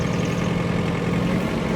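A small tractor engine idles steadily at close range, a low continuous rumble with a faint mid-pitched whine, with no talk over it.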